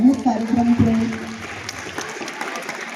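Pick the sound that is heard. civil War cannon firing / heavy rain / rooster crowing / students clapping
students clapping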